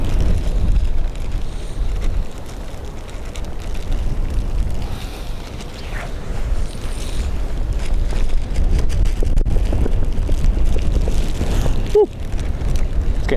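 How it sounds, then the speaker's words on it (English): Gusty wind buffets an outdoor microphone at an airport plane-spotting spot, a steady low rumble that swells and eases throughout, with a sharp knock near the end. "It's getting gusty."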